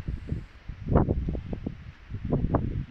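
Gusts of wind buffet the microphone in rumbling, uneven bursts, rising and falling over a few seconds, at Weston-super-Mare.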